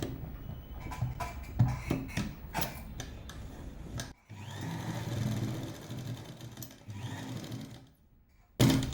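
Sewing machine stitching elastic into a dhoti salwar pant, running in bursts of motor whir with short pauses and a louder burst at the end, no talking.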